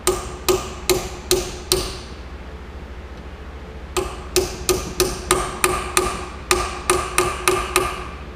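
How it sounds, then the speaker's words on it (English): Metal hammer strikes ring out in a quick even rhythm as a valve stem seal is driven onto a Hemi 6.1 engine valve, five blows, a pause, then a longer run of about eleven taps, close and crisp. "And when you pound it on until you hear the sound change, and that means it's bottomed out."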